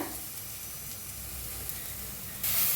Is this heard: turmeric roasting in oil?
yes